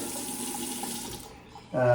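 Water runs steadily from a newly plumbed tap in a cabin bathroom build, a close, continuous splashing flow that briefly eases before surging louder again at the end.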